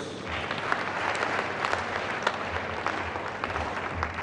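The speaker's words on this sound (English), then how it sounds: "Another round of applause." An audience at a peace-promotion event gives a steady round of applause, dense overlapping claps sustained throughout with a few sharper individual hits.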